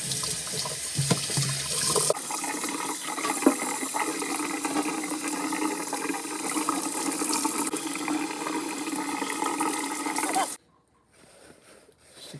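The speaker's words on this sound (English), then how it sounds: "Wash it off really good with cold water" Cold tap water runs steadily into a sink, splashing as a whole chicken is rinsed under it, then cuts off abruptly near the end.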